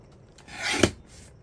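Paper being trimmed for a junk journal: a single short scissor cut or rasping swipe, rising to a brief snip near the end, quiet and close with no talk.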